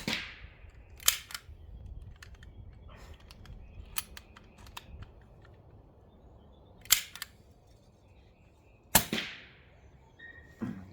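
Sharp cracks from an Umarex Notos PCP pellet rifle, a short-barrelled air rifle, sound in a quiet room: two louder shots near the end, plus a few fainter snaps and clicks scattered through the clip.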